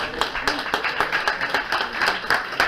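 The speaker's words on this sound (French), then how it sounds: "Bravo, on les applaudit." An audience claps after a poetry and music tribute event, a short burst of quick, fairly close hand claps in an uneven rhythm.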